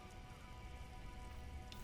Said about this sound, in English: rain will not let up anytime soon